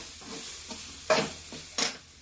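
Grated coconut fries in ghee with a soft background sizzle, broken by a few quick stirring scrapes of a spoon in the pan, close and fairly quiet.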